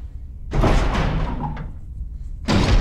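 Heavy doors swing open in the game Resident Evil HD Remaster, a long creaking, rumbling sweep followed by a second deep thud-like surge, loud and close with no talk.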